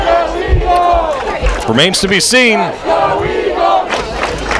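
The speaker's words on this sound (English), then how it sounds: "Crowd's getting into it too now." A high school football crowd at a Notre Dame Irish vs. Paul VI game roars and yells loudly and continuously, with a commentator talking over the noise.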